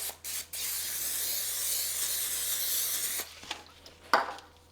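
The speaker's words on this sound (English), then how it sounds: "I'm gonna spray some Pam on here." A short burst of Pam cooking spray hisses for about three seconds, followed by a few soft clicks and light kitchen clatter.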